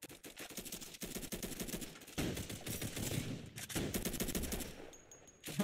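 Repeated bursts of automatic weapon fire in a video game: loud, close, fast-rattling volleys with brief pauses between them, then a short metallic click near the end.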